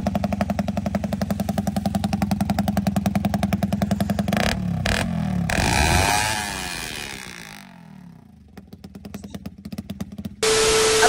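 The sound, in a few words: RFI motorcycle engine revving during a soundcheck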